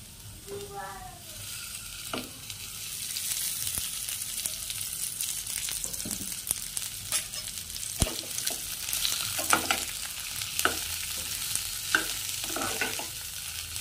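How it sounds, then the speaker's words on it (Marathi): Onion frying in oil in a pan, a continuous close sizzle that grows slightly louder, punctuated by sharp clicks and scrapes of a spatula stirring at irregular intervals. "एक 5 मिनिटं चांगला मी भाजून घेतो हा कांदा"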